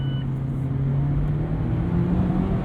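A car engine revs and hums steadily through a quick double-clutch downshift, a close, loud, continuous drone with a rising pitch toward the end.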